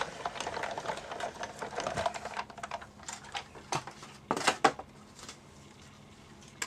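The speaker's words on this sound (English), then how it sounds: "we just bring our die cutting machine in, put that down very carefully and run it through." A die cutting machine running a card through, making an irregular rattling, clicking mechanical clatter at moderate volume, with a few louder knocks near the end before it quiets.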